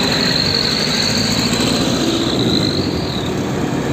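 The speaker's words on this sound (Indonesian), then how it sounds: "Wow, lihat, ada truk tangki Pertamina teman-teman" A Pertamina tanker truck's diesel engine idles loudly and close, a continuous steady rumble with a faint high whine and no talk over it.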